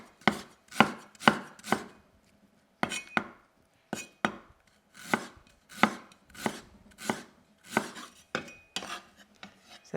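A knife cuts slices of ginger on a chopping board, about fifteen crisp close knocks arriving in quick bursts with short pauses between, no talk.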